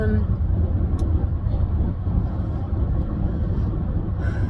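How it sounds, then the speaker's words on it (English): Inside a moving car, a steady loud low rumble of road and engine noise runs throughout while a person talks over it. "And yes, I am driving."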